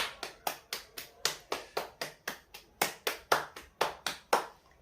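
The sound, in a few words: hands clapping during yoga exercise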